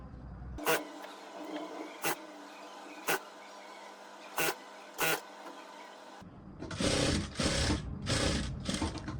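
Sewing machine stitching a belt-style princess-cut blouse, running in short separate bursts that pause between seams, then a longer louder stretch of rapid continuous stitching close by.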